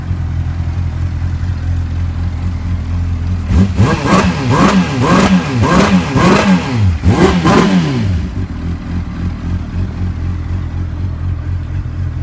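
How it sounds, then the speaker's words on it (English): A 2003 Honda CBR600RR sport motorcycle with freshly cleaned throttle bodies and a new air filter, idling close by, then blipped through a series of quick, sharp throttle revs before settling back to a steady idle. "went ahead and started the bike."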